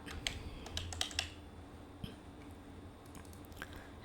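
Keys tapped on a computer keyboard while entering an Excel VLOOKUP formula, a quick cluster of light clicks early on and a few scattered taps later, faint and close with no talking.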